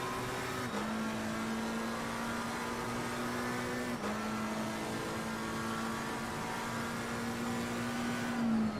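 A race car in Assetto Corsa Competizione at the Hungaroring accelerates flat out through first and second gear, its loud, steady engine drone breaking twice for sharp upshifts, with no talking.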